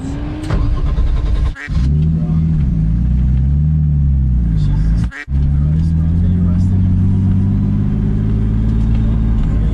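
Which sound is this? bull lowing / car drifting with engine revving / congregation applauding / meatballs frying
car drifting with engine revving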